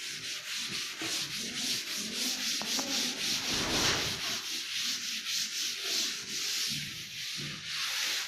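An eraser rubs steadily over a drawing of a nephron on paper, a close, continuous scratchy friction with regular back-and-forth strokes.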